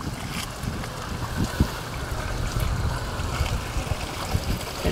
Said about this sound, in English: It's emptying into the sewer.